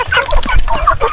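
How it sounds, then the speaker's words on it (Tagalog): Domestic ducks in a pen call over one another, with close, loud, overlapping nasal quacks and short squawks in a busy, irregular chorus. "Nakalabas yung aking mga itik."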